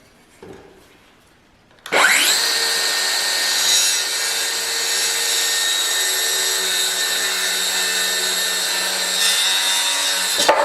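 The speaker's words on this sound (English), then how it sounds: "now I'm going to cut my 8-footer so I can have two halves that are 4 foot long" A power saw cuts an 8-foot lumber board into two 4-foot halves for a raised garden bed frame. After a quiet moment it starts abruptly, then runs as one loud, steady cutting whine for about nine seconds.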